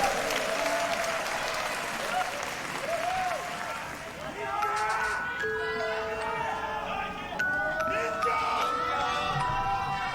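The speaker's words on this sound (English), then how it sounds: "Love the energy in the crowd." A live concert crowd applauds and cheers through a rock show, a loud, dense wash of clapping with a shout or two rising over it and tones of the band's instruments sounding beneath.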